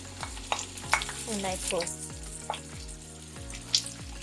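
Chili and carrots fry in a pan for fish makange, a steady close sizzle broken by repeated scraping stirs about every half second, with a brief spoken phrase.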